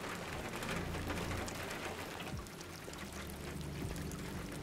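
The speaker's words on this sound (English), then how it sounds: "He was just standing in the rain." Steady rain pours down in Detroit: Become Human, a dense, even hiss of falling water that fills the scene from start to finish.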